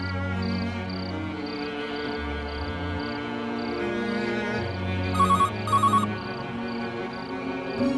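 A phone rings repeatedly in a steady electronic pattern over low background music, going on without being picked up.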